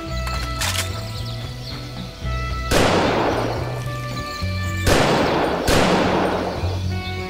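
Loud gunshots from the M14 rifle in the Doom mod VietDoom, three sharp blasts with long decaying tails over a looping game music and sound-effect bed.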